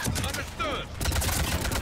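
Gunfire in Mass Effect 3 crackles as a dense burst of rapid shots, loud and close, mixed with combat noise and a brief electronic whine.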